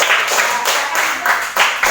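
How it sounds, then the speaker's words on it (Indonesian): Students in a classroom clap for a student group in a quick, rhythmic unison beat of close, loud handclaps, pulsing steadily through a short burst. "kasih tepuk tangan dulu untuk kelompok 1"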